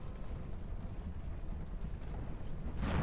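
Explosion in the video game Dark Souls 2: a loud, deep rumbling roar that holds steady for about three seconds and swells sharply at the end, with no talking.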